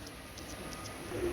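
Imported Pakistani Teddy pigeons give a soft, low coo near the end of a brief, quiet moment, with faint background hiss and no speech.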